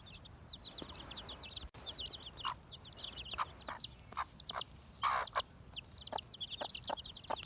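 A mixed-age backyard flock of chickens and little chicks clucks and peeps steadily nearby, soft repeated chirps overlaid with louder hen clucks in a busy, irregular rhythm.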